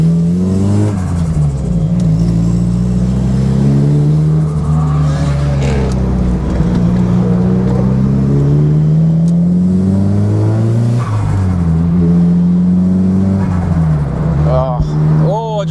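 A Nissan Silvia S15 cruising on a Friday night revs hard with a loud, close engine drone that rises and falls in long sweeps, while someone talks over it throughout.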